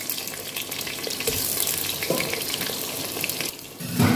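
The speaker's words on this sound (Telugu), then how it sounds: "ఇప్పుడు మనము ఆనియన్స్ వేసుకుందాం." Onions hitting hot oil already crackling with cumin, mustard seeds and dried red chillies for a mixed vegetable rasam, a loud continuous sizzle with stirring and clatter, swelling near the end, no speech.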